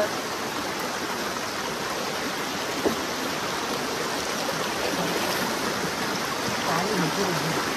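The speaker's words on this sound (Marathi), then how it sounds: "पाणी भरपूर आहे नदीला, एवढं पाणी नसतं." Steady rushing water flows continuously, a broad close-up river wash with no pauses.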